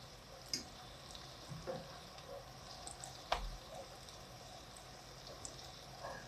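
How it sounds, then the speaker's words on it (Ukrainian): Syrnyky, cottage cheese pancakes, fry quietly in a pan with a soft steady sizzle, broken by occasional light clicks and pops as they are turned. "Перевертаю я свої сирнички, деякі вже піджарилися."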